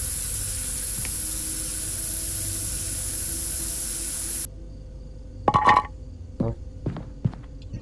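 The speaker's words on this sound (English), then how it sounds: "Oh, it's bear spray." Bear spray hissing in the horror game Fears to Fathom, a loud steady broadband spray lasting several seconds that cuts off abruptly, followed by a few quieter clicks and thuds.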